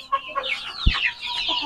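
Native farm chickens cluck close by in short repeated bursts, with a brief thump partway through and no talking.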